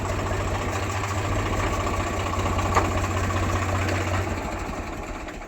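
A Swaraj 744 tractor engine idling close by, a steady low diesel chug that runs evenly throughout with no voices.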